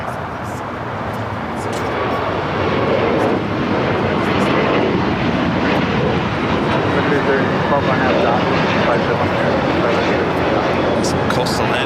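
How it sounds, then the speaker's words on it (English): An Airbus A320neo rolls down runway 25 right at LAX on its takeoff run, a broad steady jet roar that builds over the first seconds and then holds loud and continuous, with talk over it. "the Neo now rolling down to 25 right."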